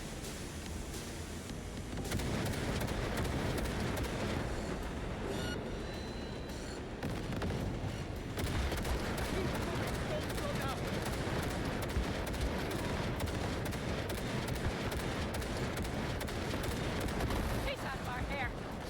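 Sustained gunfire in a Cyberpunk 2077 firefight, a dense crackling barrage of shots that runs on and on at a steady, moderate loudness with a few brief lulls.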